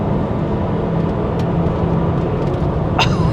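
A Volvo 850 T5 car driving down the road, a steady loud rumble of engine and road noise from inside or close by, with a brief higher squeak near the end.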